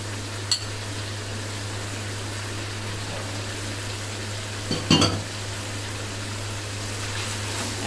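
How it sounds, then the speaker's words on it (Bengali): Chicken and fried onions being stirred and fried in a pan: a steady close sizzle runs throughout over a low hum, with a sharp utensil scrape near the start and a clattering stir against the pan partway through. "এখন এটা দিয়ে ভালো মতো নেড়ে চেড়ে মিশিয়ে আরো 2-1 মিনিটের মতন কষিয়ে নিতে হবে"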